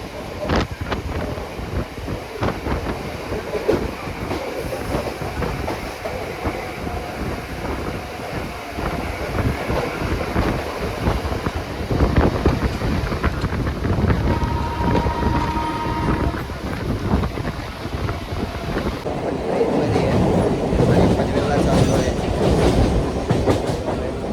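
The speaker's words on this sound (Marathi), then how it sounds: "ट्रेन आलेली आहे आणि आता आम्ही या ट्रेनमध्ये आम्ही बसत आहे" Steady noise of a crowded Panvel-bound local train arriving at a Mumbai station, with rumbling wheels and rail clatter, plus some wind buffeting, continuing at a constant loud level throughout.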